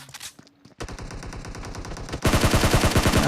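Rapid automatic gunfire rattles in PUBG Mobile as a player fires in a solo-versus-squad match, with quick regular bursts after a short pause that grow louder and denser toward the end.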